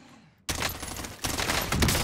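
Rapid, loud automatic gunfire in Call of Duty: Warzone bursts in after a brief quiet moment, continuous and close, intensifying toward the end with no voices over it.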